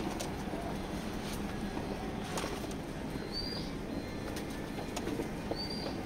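Pigeons in a pigeon loft, soft cooing and occasional wing flutters over a dense, steady background hum, with a few faint chirps.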